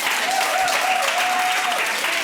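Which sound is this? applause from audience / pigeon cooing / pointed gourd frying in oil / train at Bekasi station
applause from audience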